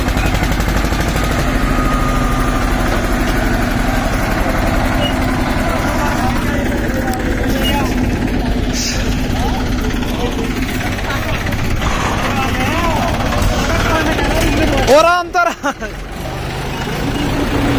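Mahindra 265 and Eicher 242 tractor engines running together in a pulling contest, a loud continuous diesel rumble and chug with a few sharp bursts near the end, with people talking over it.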